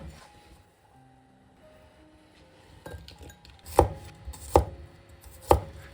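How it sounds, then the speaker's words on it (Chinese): A knife chops peeled radish into large chunks on a cutting board: quiet rustling at first, then three sharp, close thuds spaced under a second apart. "去皮的萝卜切成大块，这样炖的时候更入味儿"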